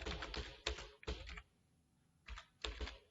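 Quick bursts of keystrokes on a computer keyboard while an SQL update statement is typed, close and clicky, with short pauses between clusters of taps.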